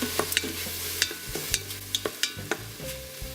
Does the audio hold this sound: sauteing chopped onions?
yes